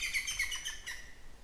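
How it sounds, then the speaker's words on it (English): A green woodpecker calls in alder woods, a series of bright, fairly loud chirping notes that repeat quickly at close to moderate range over a low, steady background rumble. "Green woodpecker."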